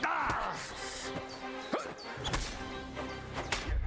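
In the video game Kingdom Come: Deliverance 2, a dog barks in several sharp, fairly close yaps mixed with thuds and clatter from the game's action, with no talk over it.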